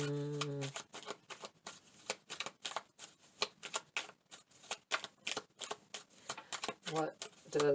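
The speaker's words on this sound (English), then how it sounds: "Let's pull a few message cards here." Tarot message cards are shuffled by hand in a quick run of crisp, riffling bursts, close and clear, with a short spoken tone at the start and again near the end.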